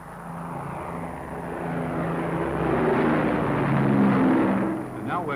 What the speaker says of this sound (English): one of the Coastal Command Shackletons taking off from St. Morgan in Cornwall